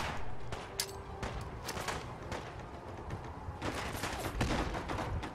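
Automated turret fire in the Fallout 4 Far Harbor game crackles as a rapid burst of gunshots over a noisy backdrop, fairly faint and continuous through the short stretch.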